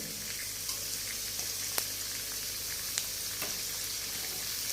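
Okra with spices and hing being stirred in a hot pan, giving a steady, close sizzle with occasional light scraping ticks from the stirring.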